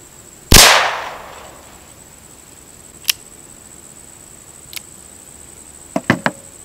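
One loud, sharp revolver shot with a 15-grain black powder load, with a short decaying tail, followed by a few faint metallic clicks from handling the gun.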